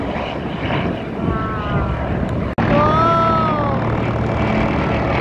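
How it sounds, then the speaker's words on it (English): Propeller airplane climbing away on takeoff at an airshow, a loud steady drone with rising and falling propeller whine as it passes, a brief dropout midway, no talk. "And there is the airplane just took off."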